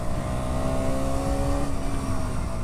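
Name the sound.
KTM Duke 125 motorcycle engine revving at high RPM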